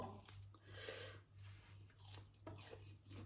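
Crunchy off-season durian being bitten and chewed close to the mic: a few crisp crunches followed by soft, rhythmic chewing, very quiet overall with a low steady hum underneath.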